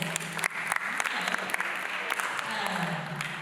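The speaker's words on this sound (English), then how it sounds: "Let's clap for Keza." A gathering of parents and teens claps for a young girl's presentation, a steady crowd applause with sharp individual claps standing out and some voices mixed in.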